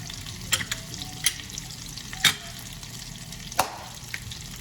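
Cod fillet topped with garlic pan-searing in a hot pan, a steady close frying sizzle with a few sharp crackling pops along the way.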